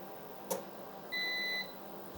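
A single short electronic beep from a solar inverter after the grid is disconnected, faint and steady, over a quiet hum, preceded by a brief click.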